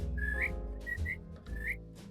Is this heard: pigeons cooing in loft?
no